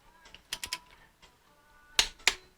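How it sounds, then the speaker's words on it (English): A torque wrench clicks during installation of an 8.2 10-bolt Eaton posi axle in a '37 Ford truck, giving a few sharp, close metallic clicks, two of them strong, among quieter clinks of handling. "This torque wrench you got works pretty good."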